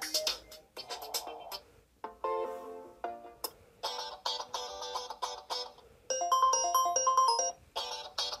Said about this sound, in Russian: Так, послушаем мелодии.